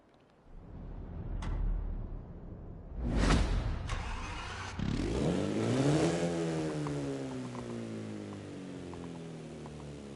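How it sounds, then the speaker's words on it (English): A car engine in Forza Horizon 5 starts with a thud and roar, then revs up, the pitch climbing smoothly as it accelerates and settles into a steady hum. "Does have a nice little revving sound."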